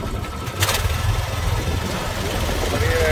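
A motorboat engine runs steadily on Loktak Lake in Manipur, a continuous low mechanical drone with water and wind noise over it, starting with a brief louder burst and then holding at an even level.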